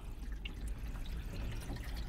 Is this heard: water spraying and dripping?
yes